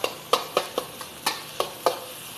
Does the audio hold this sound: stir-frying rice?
yes